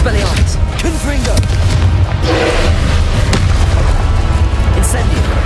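A Confringo blasting spell explodes in the video game Hogwarts Legacy, with deep booming bursts and thuds rolling loudly through a busy fight, voices and other spell noise mixed in.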